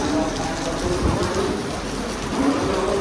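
Steady rain falls at a crowded railway station, a dense, even hiss with a faint low rumble that holds throughout at a constant level.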